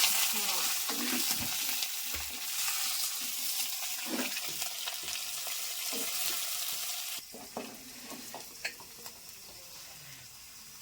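Pointed gourd fries lightly in a clay pan, a close sizzle with stirring scrapes that softens partway through, leaving quieter crackles and occasional taps.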